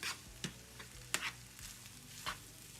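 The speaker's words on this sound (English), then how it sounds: "So right now I'm just stirring all this together." Food stirred together in a pan with cooked rice, quiet background sizzle under a few sharp spoon scrapes and knocks spaced irregularly, no voices.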